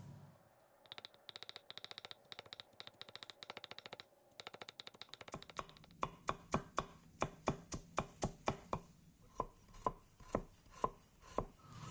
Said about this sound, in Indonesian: Sayuran tadi kita potong-potong